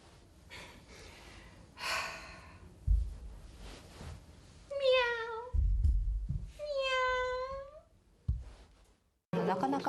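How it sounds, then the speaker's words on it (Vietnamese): A cat in Japan meows twice, each a clear drawn-out cry close by, between scattered breathy snorts, thumps and rustling, with a brief voice at the end. "Nhưng kia, chính là con mèo đó."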